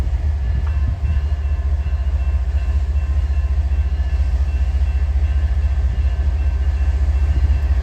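A freight train departs a siding in a farming town, a loud, steady low rumble of locomotive engines and rolling cars continuing throughout at close range.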